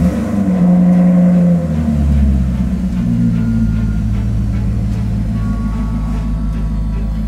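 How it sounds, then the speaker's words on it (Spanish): A brand-new Maserati V8 engine built in Modena fires up for the first time at the end of the assembly line, then holds a loud, steady rumbling idle with slight revving swells. It runs close and alone, with no talking. "escuchar un V8 de Módena, cuando emite su primer rugido a la salida de la línea de montaje"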